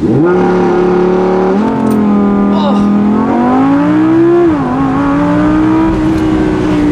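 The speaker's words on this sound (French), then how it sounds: "on va immédiatement faire un launch control" Audi R8 V10 launching under launch control, a loud, continuous engine roar climbing steadily in pitch through upshifts, with a brief dip at each gear change, heard close from inside the cabin.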